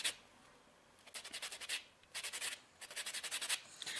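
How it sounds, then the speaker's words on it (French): Fingernails filed with a nail file during a semi-permanent polish application, heard as quiet rhythmic bursts of rapid scratchy strokes in three or four runs separated by short pauses. "Alors l'étape de la lime, du limage, c'est super important"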